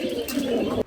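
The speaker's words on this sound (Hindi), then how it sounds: "लेकिन सबसे ज़्यादा यहाँ पे कबूतर हैं।" Pigeons cooing at a farm enclosure in Fujairah that also holds goats and sheep, a close, steady low cooing that runs for just under a second and then cuts off.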